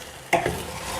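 Fried rice and vegetables stirred in a hot pan: one sharp scrape of a spatula followed by a steady soft sizzle, close and moderately loud, with no voices.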